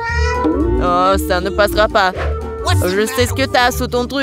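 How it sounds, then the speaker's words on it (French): A cat meows repeatedly in a hospital setting, its calls tangled up with French speech from people talking over and around it at close range. "Ah ouais, c'est un chat."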